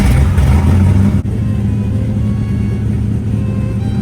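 Old GM car engine turning over and settling into a steady, loud, high idle with a constant low rumble, a brief catch early on, no voices over it.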